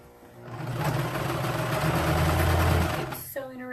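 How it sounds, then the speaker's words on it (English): A sewing machine stitches a T-shirt dress made from a men's T-shirt in one steady continuous run of close, loud mechanical whirring for about three seconds, then stops. "Keep sewing around"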